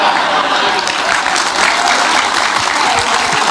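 Dense clapping from an audience, steady and loud throughout, with some voices mixed in beneath it.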